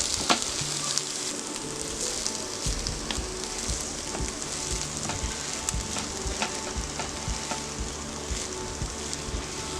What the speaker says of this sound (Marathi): सगळं परतून घेऊया।